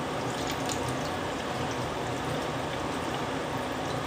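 Liquid poured into a pot of savory chicken stew, a steady close watery pour with faint splashing and trickling that holds evenly throughout, with no talking.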